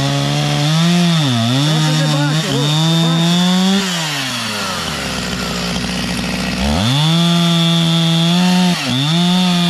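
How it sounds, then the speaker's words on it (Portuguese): Chainsaw cutting wood in a tight, risky spot where the bar could get pinched, engine loud and close, revving and bogging down into the cut, then idling back up, continuous with no talk. "tu vai prensar a motosserra"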